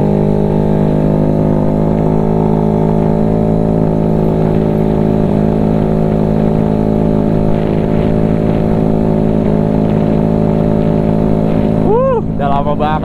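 A Honda Vario with a 210cc engine runs during break-in with a steady, droning, helicopter-like hum that holds close and loud throughout. Near the end, a short rising chirp sounds over it.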